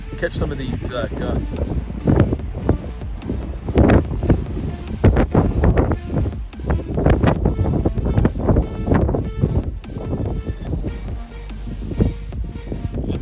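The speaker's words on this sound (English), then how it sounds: "Let me turn this camera around and catch some of these gusts." Strong gusty wind buffets the microphone continuously, with loud rumbling blasts and rattling, rustling noises throughout.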